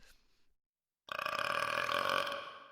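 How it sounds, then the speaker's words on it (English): After a brief silence, one long, loud, drawn-out burp rumbles close to the microphone for nearly two seconds, voiced with a rough, resonant tone. "He burped."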